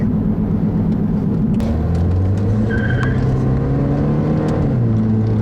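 A 2008 Chevrolet HHR SS with its 2-liter direct-injection four-cylinder revs loudly and steadily from up close, the engine tone sweeping up and dipping back, with a brief higher whine midway.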